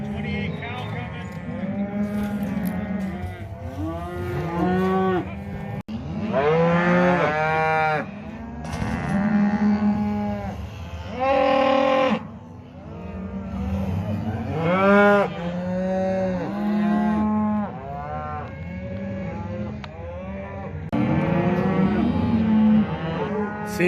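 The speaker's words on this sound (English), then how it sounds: "It's the cows, more cows we get in here, the louder it's gonna be." Cattle in a ranch pen moo again and again, loud and close. Several overlapping bellows rise and fall across the whole stretch, with short pauses between calls.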